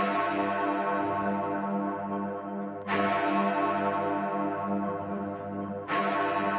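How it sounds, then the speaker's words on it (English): Big Ben, the great bell, is struck by its hammer twice, about three seconds apart, each strike ringing out loud with a long, rich, sustained hum of overtones; no voices. "connects to the hammer above Big Ben. It works very similar to the chiming train, but this time we're only ringing one bell."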